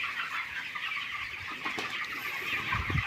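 A crowd of young broiler chickens, about 25 days old, fills a partitioned poultry shed with a dense, continuous chorus of soft clucks and chirps, with rustling and a few louder calls nearby.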